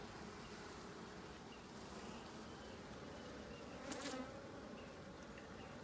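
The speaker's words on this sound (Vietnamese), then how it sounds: "hiện tại thì rất là nhiều ong đực" Honeybees at a hive, with many drones among them, make a dense, steady buzzing hum that stays close throughout, with one brief louder pass near the end and no talking.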